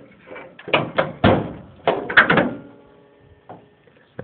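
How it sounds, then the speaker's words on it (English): A car hood being unlatched and raised, heard as a cluster of clunks, metallic rattles and thumps at close range, followed by a quieter pause and one last light knock. "Hold on, let me just open the hood."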